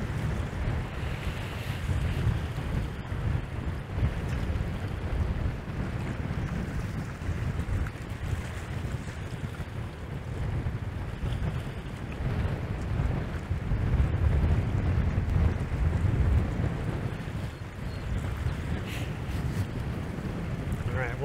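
Heavy wind buffeting a microphone outdoors on a breezy April day near the lake freighter Wilfred Sykes, a continuous loud low rumble with gusts rising and falling, no voices.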